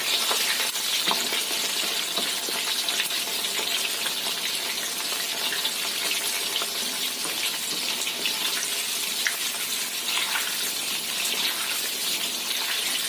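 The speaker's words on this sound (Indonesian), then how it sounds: "Kita goreng sampai benar-benar kering." Constant crackling sizzle of shrimp and chicken with garlic frying in hot oil, a dense hiss with small pops scattered throughout, steady and close with no talking.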